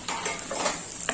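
Chopped tomato fries with browned onion in a pan, with a quiet sizzle and a few light scrapes and taps of a spoon stirring over about a second.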